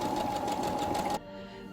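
Sewing machine stitching a child's fabric headband, a steady rapid mechanical whir that runs for about a second then stops abruptly, close and alone.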